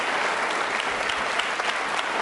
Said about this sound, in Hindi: अपने लिए एक बार तालियां फिर बजाइए जोरदार तरीके से आप